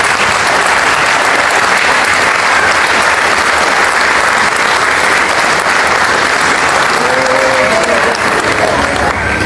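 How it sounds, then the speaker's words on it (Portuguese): A church congregation applauds at the close of a prayer, loud continuous clapping that fills the space evenly from start to finish, with no pause or fade. "Para Jesus, uma salva de palmas."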